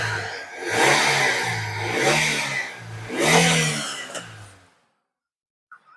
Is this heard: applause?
no